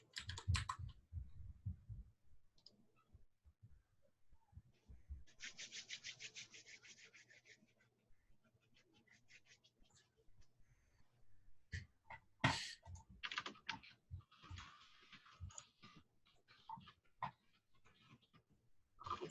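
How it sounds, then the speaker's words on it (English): Soft keyboard typing comes in uneven bursts of clicks and taps, with a few louder knocks and rustles scattered between quiet pauses. "I'm typing."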